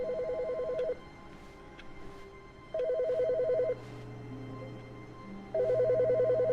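Phone ringing in the video game The Stanley Parable, three bursts of an electronic ring separated by pauses over a low background hum.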